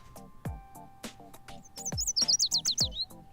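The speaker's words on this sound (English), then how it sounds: "Music of birds playing and chirping joyfully." Outdoor birdsong in the Blue Archive video game: sharp chirps and tweets scattered at first, then a quick run of bright warbling notes, fairly close and clear with no talk.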